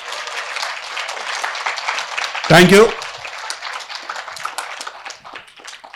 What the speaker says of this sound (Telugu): బాగా జరిగితే గట్టిగా చప్పట్లు కొడదాం.